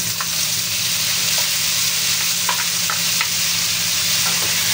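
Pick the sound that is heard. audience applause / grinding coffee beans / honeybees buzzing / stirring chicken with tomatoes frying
stirring chicken with tomatoes frying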